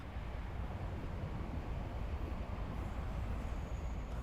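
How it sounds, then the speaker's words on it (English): A train passes at night somewhere in sparsely populated northern China on the way to Mohe, a steady, dense low rumble holding close and loud with no break and no voices. "Until suddenly a train appears in the night, on the way to where you are going, to Mohe."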